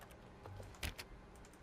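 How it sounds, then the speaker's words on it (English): Keyboard typing sound effect triggered by a left click in The Stanley Parable, a few faint, quick clicks with one sharper burst near the middle, quiet and alone with no talk. "Just sounds like keyboard gibberish when I left click."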